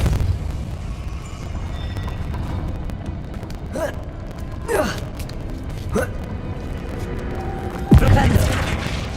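Depulso spell cast in the Hogwarts Legacy video game, heard as a few sharp whooshing bursts around four, five and six seconds and a heavier boom near eight, over a steady game ambience.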